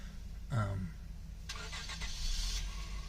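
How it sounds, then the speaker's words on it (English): Cars moving through a Walmart parking lot, with an engine-like rumble and a burst of clattering rattle from shopping carts in the middle, moderately near over a steady outdoor hum. "I'm sitting in the Walmart parking lot. That's why you hear all the carts and everything"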